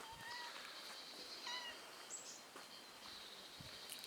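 A faint, thin meow from a cat on a farm in Portugal, distant amid soft outdoor background chirping and insect-like hum.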